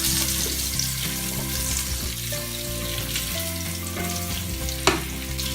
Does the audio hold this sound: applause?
no